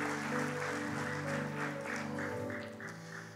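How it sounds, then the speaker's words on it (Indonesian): A church congregation at a Christmas service claps in a steady rhythm along with loud music, the claps blending into the sustained instrumental backing throughout. "Berikan tepuk tangan yang paling meriah buat Tuhan kita Yesus Kristus."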